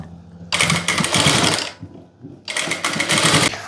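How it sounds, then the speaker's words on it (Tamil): A sewing machine stitching piping onto a blouse neckline, two loud close bursts of rapid mechanical whirring separated by a short pause, no talking. "மடிச்சுட்டு அப்படியே தையல் போடணும்."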